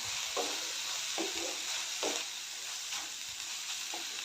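Fried potato slices are stirred into gravy in a sizzling pan, with about five even scraping strokes of the spoon over a soft, constant frying hiss.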